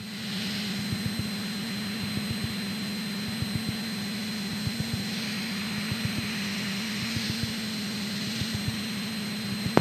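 Steady, loud drone of a Cessna light aircraft's engine in flight while climbing with power added, a continuous low hum with faint higher whine holding evenly throughout, no talk.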